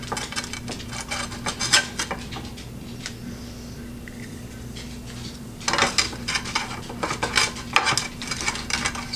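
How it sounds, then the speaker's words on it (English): Small plastic pan scrapers rasp across a non-stick pan in quick repeated strokes, up close, in two busy bursts with a quieter gap between them, over a low steady hum. "let's just test out these little plastic pan scrapers here"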